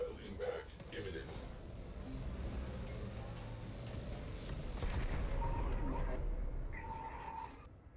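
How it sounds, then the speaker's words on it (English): Missile impacts exploding against a Railjack ship in Warframe, heard as a low rumbling roar of blasts that swells and holds for several seconds, then drops away near the end. "Missile impact imminent"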